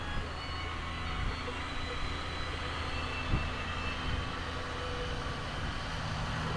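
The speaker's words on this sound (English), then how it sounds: "someone's got one heck of a Jake brake on their truck" A deep, rumbling truck Jake brake roar drones steadily in the distance, with a brief louder burst partway through amid outdoor background noise.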